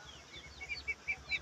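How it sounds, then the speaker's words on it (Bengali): Chickens on a small home farm give a quiet run of soft clucks at a regular pace, faint and fairly close, with no talk. "মুরগিও আছে অনেকগুলো"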